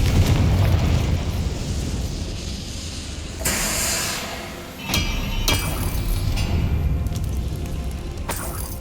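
A Confringo fire spell exploding in Hogwarts Legacy, with sharp bursts and crackling impacts over a dense rumbling game mix, a couple of loud blasts standing out and a brief lull between them.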